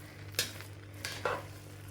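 Meat and rice for Malabar erachi choru being stirred and mixed in a pot, a few scraping clanks of a spoon against metal over a low stove hum.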